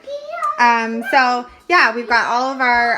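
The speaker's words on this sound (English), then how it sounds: "You guys can hear the kids in the background." Children's voices chatter at home, high-pitched and close, in a lively stream of talk with brief pauses.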